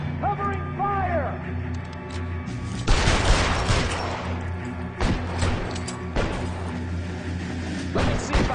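Gunfire in the video game L.A. Noire: bursts of shots and crashes layered over a droning game background, with a brief voice near the start.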